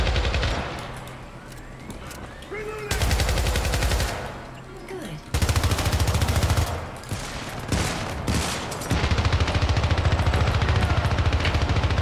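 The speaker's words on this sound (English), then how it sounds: "I'm minigunning these fuckers" Sustained automatic fire from a minigun in the co-op shooter game Syndicate, long loud buzzing bursts with short pauses between them, mixed with other game effects.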